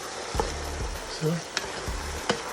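Eggplant frying in a pan gives a continuous close sizzle and crackle, punctuated by several sharp utensil taps and stirring scrapes, with a brief low murmur partway through.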